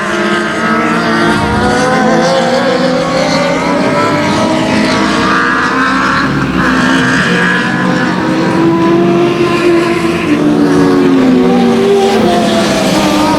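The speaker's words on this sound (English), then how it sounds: "Looney and Carroll Jr. are going to duke it out for the 3rd spot as they race through turns 1 and 2." Race cars racing at 281 Speedway as they go through turns 1 and 2. Several engines drone loudly and continuously, with overlapping rising and falling pitches as the cars pass and accelerate, making a steady, dense roar throughout.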